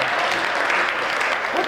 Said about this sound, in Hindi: ताली वाली बजाओ।